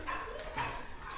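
Puppies yip and bark in short overlapping bursts close by, with people talking over them at a home storage area near Manila, Philippines.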